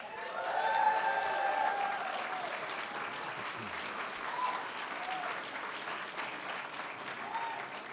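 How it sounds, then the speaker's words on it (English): Applause from a large audience at a New York performing arts fall benefit gala, fairly distant and soft, swelling early then holding steady, with some voices mixed in. "We want to give you a big round of applause."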